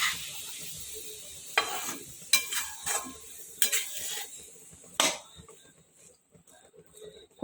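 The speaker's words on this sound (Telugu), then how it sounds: "ఇప్పుడు మనం కొబ్బరి వేసాం కదా అరటికాయ కూరలో, మొత్తం అంతా ఒకసారి కలపాలి" A spoon stirs raw banana and coconut curry in a pan, scraping and clinking in several distinct strokes against the metal, close by, with a faint sizzle underneath and quiet pauses between stirs.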